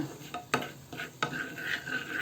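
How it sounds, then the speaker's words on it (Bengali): Ground cumin roasting in hot oil in a small pan, with a spoon scraping and stirring in short sharp strokes and a few clinks against the metal, over a soft, steady sizzle that is quiet and close. "জিরাটাকে আমি একটু ভেজে নেব"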